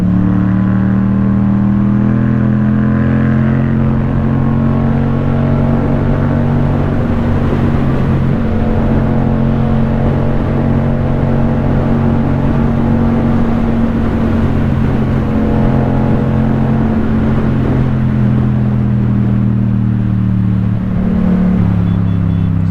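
A Yamaha MT-07 motorcycle pulling hard through the gears up to sixth on an open road, a loud, close, continuous engine drone with rising pitch and shifts, under heavy wind roar.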